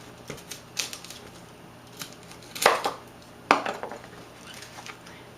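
Chunks of cut vegetables for a roasted vegetable curry land in a cooking pot, giving a few sharp clattering knocks and thuds spaced irregularly, with two louder impacts in the middle, heard close and alone.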